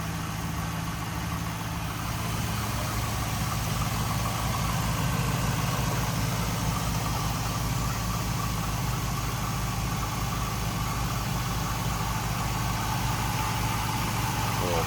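The V8 engine of a 2002 Chevrolet Camaro SS convertible idles steadily with a deep, smooth rumble, constant and close, with no talking over it.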